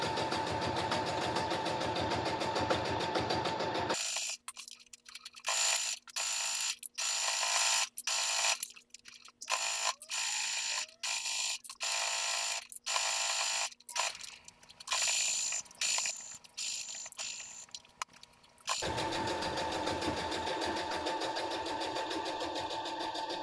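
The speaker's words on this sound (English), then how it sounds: "I'm sewing that half inch seam allowance that I included in the pattern when I designed it" A sewing machine stitches a seam on fabric for a tool caddy, with rapid mechanical whirring bursts that stop and start through the middle stretch, framed before and after by louder steady background noise.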